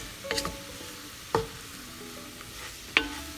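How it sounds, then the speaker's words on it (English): A spoon stirs floured fried pork pieces in thickening bouillon for green chile with pork, with a soft bubbling sizzle and three distinct clanks of the utensil against the pot, fairly quiet and close. "It's getting thick, so you have to mix it around vigorously."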